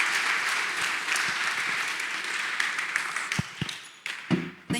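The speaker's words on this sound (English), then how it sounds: "she deserves a huge applause before she even starts" An audience at a symposium applauds a speaker, a full burst of steady clapping that thins out into scattered final claps near the end.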